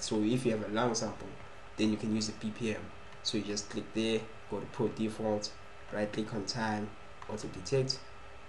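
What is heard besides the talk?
No everyday noises stand out.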